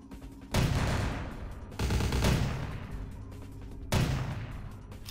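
Pistol shots in Vampire: The Masquerade - Bloodlines, three sharp, loud reports spaced about a second or two apart, each trailing off in a decaying echo.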